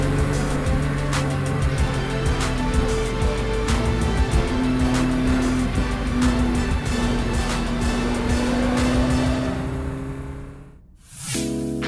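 A Roding Roadster sports car with a turbocharged engine drives a mountain pass road, its engine holding a loud, steady drone with shifting tones and a warbling turbo. Near the end the sound dips sharply, then a brief hiss rises.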